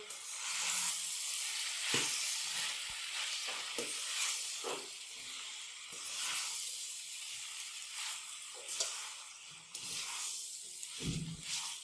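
Chicken macaroni is stirred in a hot pan, giving a steady soft sizzle and hiss broken by scraping stir strokes, close and fairly quiet.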